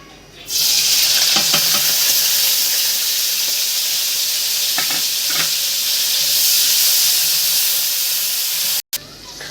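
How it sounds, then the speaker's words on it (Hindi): Onions sizzling in hot ghee for an Aloo Gobhi dish: a loud, steady broadband hiss that starts abruptly and runs throughout, with a few faint clinks of stirring and a brief cut near the end. "घी गर्म हो चुका है, प्याज ऐड कर दूंगी।"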